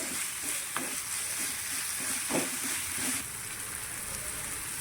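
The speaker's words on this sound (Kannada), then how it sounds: "ಈರುಳ್ಳಿಯನ್ನು ನಾವು ಹಸಿ ಸ್ಮೆಲ್ ಹೋಗೋ ತನಕ ಫ್ರೈ ಮಾಡ್ಕೋಬೇಕು." Onions frying in a pan for a green chicken masala, a close, steady sizzle broken by a few stirring scrapes and soft spatters, with no voices.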